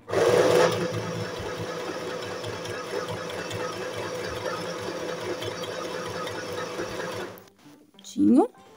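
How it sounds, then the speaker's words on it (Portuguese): A sewing machine runs a narrow fabric hem in one steady, close whirring stretch of rapid stitching for about seven seconds, then stops, followed by a brief mechanical noise. "vou costurar aqui pra vocês verem como agora vai ficar uma barra bem estreitinha"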